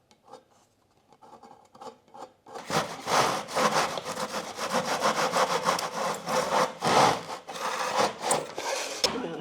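Steady back-and-forth sawing through a length of coving, starting after a quieter moment of handling and then running as loud, rhythmic strokes close by for several seconds.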